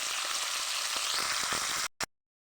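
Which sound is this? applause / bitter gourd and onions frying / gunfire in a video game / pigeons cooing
bitter gourd and onions frying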